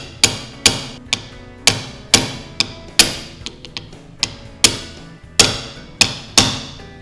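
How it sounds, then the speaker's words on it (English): A small hammer taps a punch driving a door handle pin on a 1968-70 Dodge Charger, about a dozen sharp ringing strikes in a fairly steady rhythm, close and clear with no talking. "it sure makes it easier to use a punch and a little hammer"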